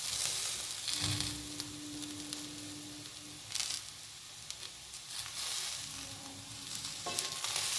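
Vegetable noodles are stirred in a hot pan, giving a steady soft sizzle with scraping and tossing sounds rising and falling throughout.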